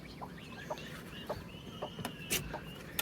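Hens and chicks cluck and peep inside a cage, with several short, fairly close calls scattered over a low background murmur.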